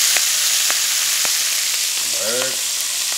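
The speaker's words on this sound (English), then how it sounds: "Hear that sizzle? Got some sausage." Sausage sizzling in a frying pan, a steady, close, even hiss of frying fat with a few faint ticks, running alone without talk.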